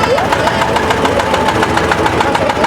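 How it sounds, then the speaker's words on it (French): An old tractor from around 1960 runs at a steady rhythmic idle, loud and close, its regular engine pulses filling the whole moment at an outdoor vintage vehicle event. "et le tracteur qui nous intéresse."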